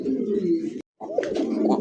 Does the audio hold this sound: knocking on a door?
no